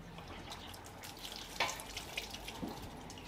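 Water is poured generously through a funnel into the sunroof drain of a BMW 760Li V12, making a faint, continuous trickling and splashing with a few soft gurgles close by.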